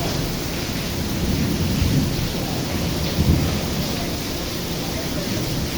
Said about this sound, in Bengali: এই দেখেন কত জোরে বৃষ্টি আসছে